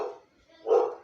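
A pet dog barks twice indoors, a short muffled bark followed by a louder, fuller one after a brief pause, heard alone and fairly close.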